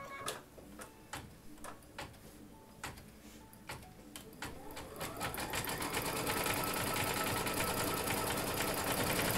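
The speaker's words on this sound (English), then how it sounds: "The machine has stitched the first step, which was the placement line for a pair of ears." An embroidery machine stitches the placement line for bunny slipper ears, its needle ticking in a steady rapid rhythm that quickens into a dense, continuous mechanical whir, close and moderately loud.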